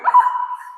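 A single short Cavapoo vocalization, a brief bark trailing into a whiny tone, close and fairly loud, with no talking.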